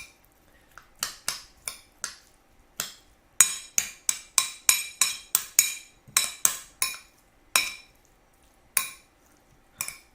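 Blackfin tuna poke tossed with sauce in a bowl, giving a run of sharp, close clinks and taps of a utensil against the bowl in an uneven rhythm, with short pauses between bursts.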